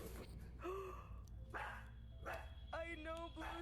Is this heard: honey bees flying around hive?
no